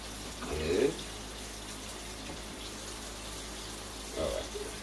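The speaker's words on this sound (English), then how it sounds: "let me wash my gloves off because I got to go touch some other things" Gloved hands are rinsed under a running tap while ribs are prepared for smoking, a steady, moderate spray of water with brief louder splashes near the start and end.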